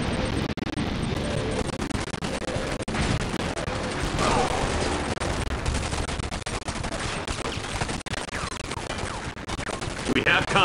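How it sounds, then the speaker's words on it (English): Rifle squad gunfire in the Command and Conquer 3 strategy game, with rapid bursts of rifle and machine-gun shots over battle noise and intermittent booms, mixed with voiced unit callouts. "Unit under rifle attack."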